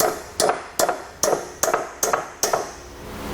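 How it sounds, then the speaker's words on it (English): A hammer taps down a metal tab on the bumper beam of a 2017 Toyota Prius while a trailer hitch is fitted, giving seven evenly spaced ringing metallic strikes, close and distinct, with no talk. "So I'll just take a hammer and tap it down."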